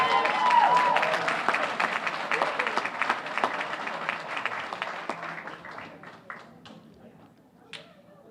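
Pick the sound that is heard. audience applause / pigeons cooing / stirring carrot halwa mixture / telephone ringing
audience applause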